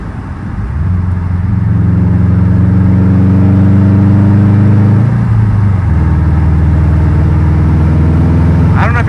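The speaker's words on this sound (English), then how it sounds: "See, it sounds like it has an external wastegate." Engine of a 2021 Subaru STI running loudly and close with an external wastegate, a deep droning rumble that holds steady, drops slightly in pitch partway, then continues, with voices talking over it.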